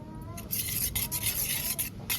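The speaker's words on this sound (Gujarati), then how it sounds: "હવે આપણે મિક્સ કરી નાખીએ બધું હલાવી નાખ્યું" Spices stirred into egg khima with a spoon in a pan: short, repeated scraping and rubbing strokes in a quick rhythm, close and moderately loud, with no talk.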